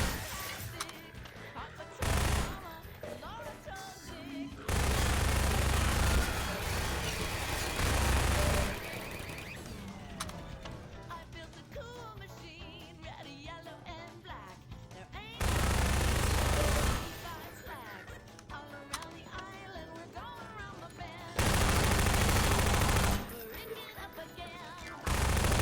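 Bursts of Half-Life 2 gunfire: loud, blocky volleys that come and go in several separate stretches, mixed with other game effects and a player's speech in between.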